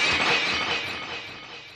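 A mirror smashing into pieces, a bright burst of shattering glass that rings and tinkles away over about two seconds, loud and alone with no voices.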